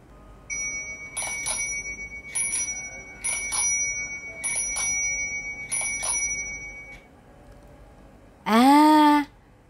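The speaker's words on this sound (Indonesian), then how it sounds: "Iya betul, itu adalah bunyi bel sepeda." A bicycle bell rings in five separate bursts of rapid brisk dings, close and clear, followed by a brief louder rising squeaky tone at the end in a quiet children's Sunday school setting.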